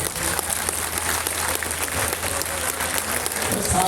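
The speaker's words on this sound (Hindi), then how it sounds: "नए लोगों के लिए तालियां बजा दो पुराने लोग।" An audience claps loudly and continuously at a Buddhist Dhamma gathering in New Delhi, a dense, even patter of many hands sustained throughout.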